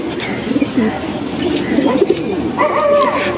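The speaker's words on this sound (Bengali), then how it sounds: "এখানে হচ্ছে বাইরে একটি কাজ করা নর কবুতর" A male working pigeon coos outdoors in soft repeated phrases, close and clear, with faint background noise.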